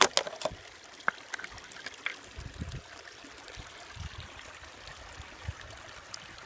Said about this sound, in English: Once all the water drains out